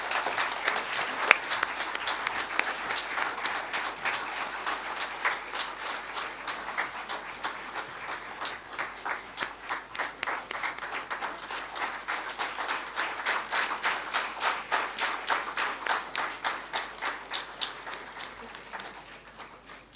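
Sustained audience applause at a tech competition finale, dense steady clapping from a large crowd that holds at an even level throughout, with faint talk beneath.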